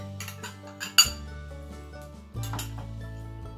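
Sour cherry jam being transferred into a wide bowl in a kitchen, with a few clinks of a spoon against dishes, one sharp knock near the middle, and soft scraping between them.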